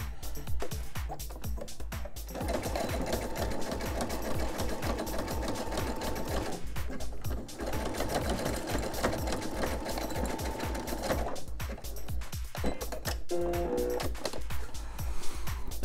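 A sewing machine runs in fast, steady zigzag stitching on an oven mitt, loud and close, with two short pauses and restarts and no talk.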